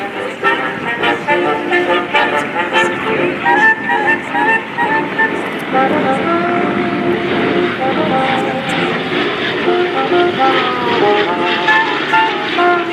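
C-47 Skytrain propeller transport plane, the historic D-Day aircraft That's All Brother, flying past at the 2023 Power in the Pines air show at Joint Base McGuire-Dix-Lakehurst, a steady loud engine drone with a wavering tone and crowd noise throughout.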